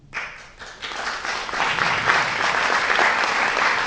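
Audience applause at a TIFF screening of The Time That Remains, clapping that swells quickly from a few hands into a dense, sustained ovation.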